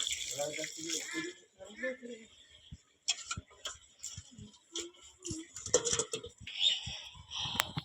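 Cow dung water poured onto rose plants makes intermittent splashing and trickling, heard under ongoing talk.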